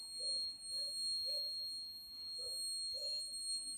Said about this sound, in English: when the ultrasonic sensor is beeping, it can alert the person